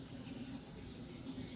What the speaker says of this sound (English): I'm gonna go ahead and wash my hands while you do that.